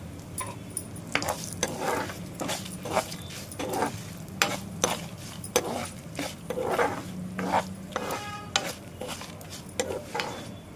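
Sesame seeds and spices dry-roasting in a pan for a potato masala curry, with repeated scraping and stirring strokes of a spatula over a soft, steady crackle, close and moderately loud.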